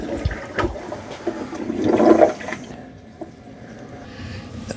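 A toilet flushes to rinse a disposable toilet cleaning wand, with a close, swelling rush of water that peaks and then drains away into a quieter trickle.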